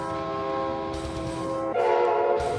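A train rolls past, its horn sounding a loud, sustained chord that shifts lower in pitch partway through as it goes by, with steady rumble underneath and no talk.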